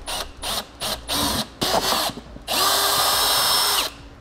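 A power drill enlarges a hole in a 2018 Chevrolet panel while a Roadmaster automatic battery disconnect is fitted, starting with several short, loud whirring bursts and ending in one long steady run of about a second and a half, close up with no voices.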